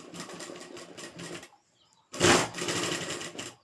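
A sewing machine runs a long basting stitch on a salwar, sounding as two close bursts of rapid needle chatter split by a short silence, the second louder than the first.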